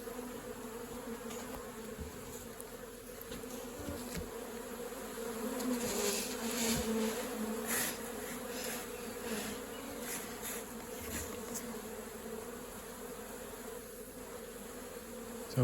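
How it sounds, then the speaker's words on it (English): A swarm of bees buzzing in the air around a small hive after a hive transfer, a continuous dense drone of many insects close by, rising slightly midway and never stopping. "So you can see there quite a few bees in the air, hovering around, confused."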